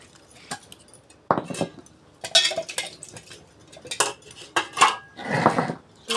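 Ceramic dishes and a plate clink and clatter in a home kitchen as freshly ground mustard-chili paste is scraped onto a plate, several sharp irregular knocks with quiet gaps, close and alone.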